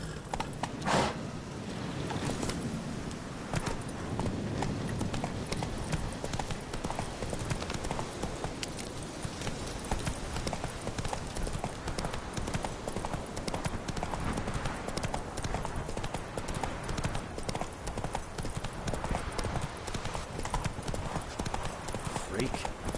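A horse gallops in The Witcher 3 with steady, rapid clip-clop hoofbeats throughout, loud and close, over an ambient game backdrop.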